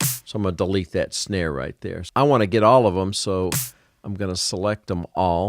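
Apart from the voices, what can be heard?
None of the usual background noises is heard.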